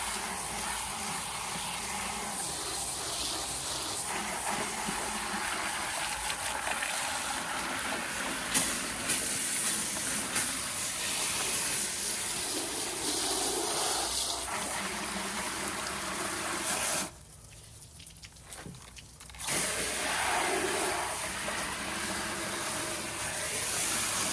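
Water rinsing and draining out of a cooler, a continuous close hiss and splash that briefly drops off before resuming.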